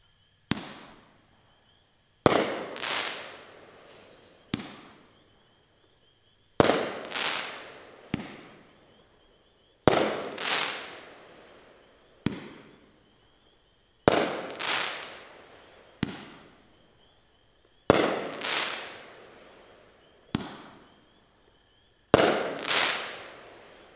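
A Drift King 8-shot firework cake fires off in a series of sharp, loud bursts spaced a couple of seconds apart, each crack followed by a crackling, fading tail, with no voices.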